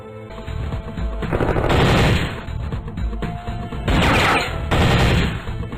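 Gunfire from the Flash game Bush Shootout, loud bursts of rapid shots in two clusters with brief gaps between, alone with no talk.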